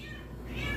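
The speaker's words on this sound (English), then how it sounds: "There's a cat." A cat meows once, faintly and a little distant, the call swelling toward the end over a low background rumble.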